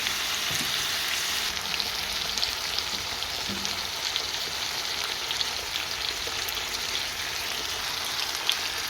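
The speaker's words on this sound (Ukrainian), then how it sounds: "вбила ще два яйця. Нехай прожариться." Eggs frying in a pan, a steady, even sizzle with fine crackling and spitting that holds at a constant level throughout and has no voices over it.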